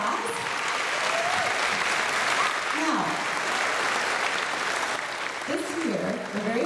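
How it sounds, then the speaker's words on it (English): Audience applause fills a school concert hall for a welcomed art teacher, steady dense clapping throughout with occasional voices rising over it. "We can give you a round of applause"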